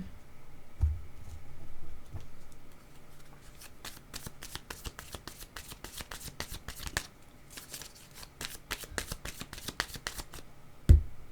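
Tarot cards shuffled by hand at close range, making a long run of quick, crisp riffling flicks, soft and steady, with a couple of louder knocks at the start and end and no voices.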